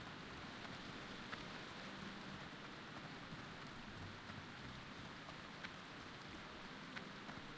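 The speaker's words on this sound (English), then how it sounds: "It really should not be raining this much in Durotar." Steady rain falling in Durotar, the orc starting zone of the World of Warcraft private server Turtle WoW, a constant hiss and patter with faint low rumbles underneath, playing alone without voices.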